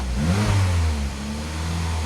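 A Saab car engine runs steadily, with a low rumble that swells slightly and then settles into an even drone close by. No voices can be heard.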